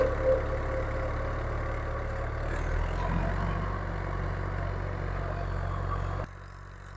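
A tractor engine idles steadily with a low continuous rumble, moderately loud and close, cutting out abruptly near the end.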